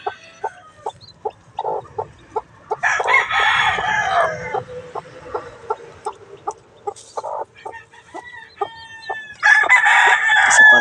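Hatch Gray gamefowl roosters crow loudly and repeatedly up close, with sharp clucks and short calls pulsing between the long crows.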